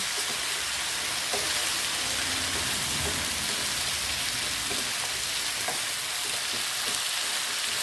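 Pumpkin (kalabasa) sizzles loudly in a pan, a dense, constant frying hiss like rain with light stirring scrapes throughout, no talking.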